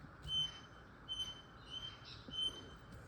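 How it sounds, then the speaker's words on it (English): Faint king parrots calling outdoors in the early morning, a few thin high repeated calls spaced across a quiet background. "Those are king parrots, by the way."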